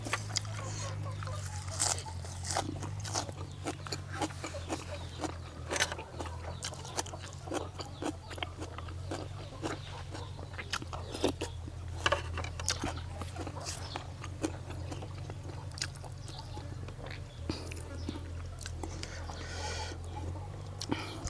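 Close, crunchy chewing and biting while eating a spicy Thai jaew dip, with repeated crisp crackles and wet mouth sounds over a low steady hum throughout.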